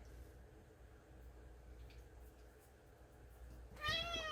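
A house cat lets out a single short, rising meow near the end, following several seconds of quiet room tone.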